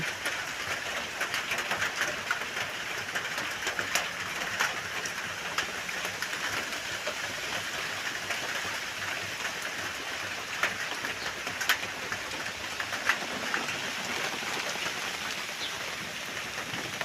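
Steady, dense rain hissing across the whole stretch over the Lam Pao River in Thailand, with occasional sharper spatters and clicks standing out; no voices.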